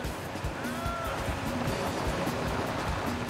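Fast, powerful river water rushing through a narrow gorge toward a waterfall, a loud continuous roar with steady turbulence throughout.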